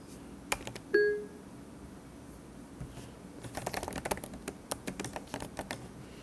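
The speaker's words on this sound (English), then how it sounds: "Let me just type a note." Key taps on a MacBook Pro keyboard while a note is typed, a few sparse clicks early on followed by a quicker run of light, close keystrokes, with no talking.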